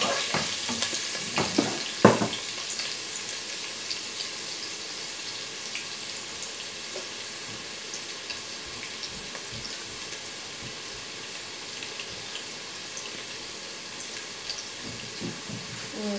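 Onions frying in a pan for a prawn and turnip dish, a steady close hiss and crackle throughout, with a few louder stirring clatters early on and no one talking.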